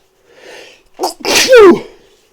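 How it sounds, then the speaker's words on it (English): A single loud, close sneeze, with a short breathy intake followed by a sharp explosive burst, heard alone in a quiet room. "my apologies, but I keep sneezing like crazy."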